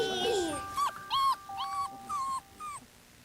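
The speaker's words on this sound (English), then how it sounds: "Puppies!" Puppies whimper and whine in a series of short, high-pitched cries, each separated by brief pauses.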